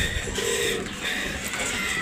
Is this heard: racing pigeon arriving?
yes